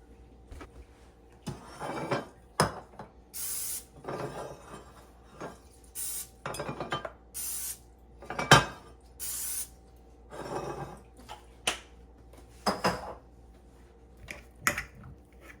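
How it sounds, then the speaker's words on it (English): Greasing a glass loaf pan for banana bread, with a string of short spray bursts and light clinks of glass and utensils, close and fairly quiet, no talking. "So I'm gonna go ahead and grease it."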